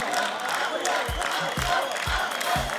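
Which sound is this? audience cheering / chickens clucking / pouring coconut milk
audience cheering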